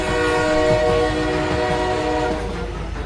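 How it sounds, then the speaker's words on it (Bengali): A passenger train approaches on the line in an audio-story sound effect, its sustained horn tones ringing over a rumbling, rattling rail roar that starts loud and fades slightly toward the end. "একটা যাত্রীবাহী ট্রেন ওই একই সময় একই লাইন দিয়ে আসছে।"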